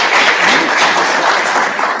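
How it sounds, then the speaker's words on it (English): Audience applauding graduates at a sonography pinning ceremony, a steady, moderately loud wash of clapping in a hall for the full two seconds, with no voices over it. "How about one more round of applause for all of our graduates?"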